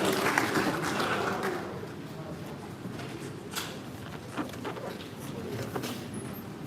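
An audience at a panel discussion event in Kumasi claps in a dense, steady wash of applause. It sounds fairly faint and distant and is heard alone, with no talk over it.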